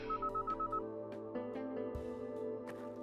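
A short electronic pager beep from the Kathy Rain 2 adventure game, a rapid series of clipped tones at the start, followed by quiet game sounds and soft clicks.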